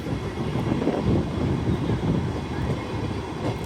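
A special cattle-and-mango train in Bangladesh rumbles steadily along the tracks near the Jurain rail gate, a continuous heavy low roar with a faint rattling texture, close and loud throughout.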